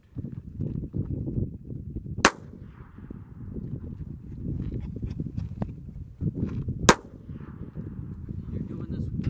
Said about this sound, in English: Now we're going to go shoot this gun. Let me just shoot one round.